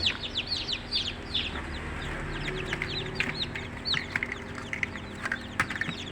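Newly hatched chicks in a brooding box keep up a dense, continuous chorus of high, close peeping chirps, with many overlapping calls above a low background hum.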